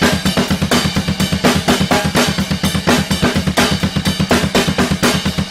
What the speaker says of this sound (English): you're going to be leading off with the tip of the ride and then the bell